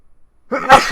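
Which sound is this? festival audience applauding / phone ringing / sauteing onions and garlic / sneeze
sneeze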